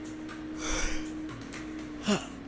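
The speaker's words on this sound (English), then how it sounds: "I apologize, I had to yawn." A person yawning during a commentary on an Overwatch hero balance patch, a soft breathy exhale swelling midway and a brief louder gasp near the end, close and alone with no speech.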